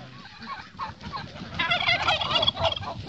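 Several turkeys gobble in loud, rapid bursts, the calls overlapping and growing more intense toward the end, close by with no other sounds.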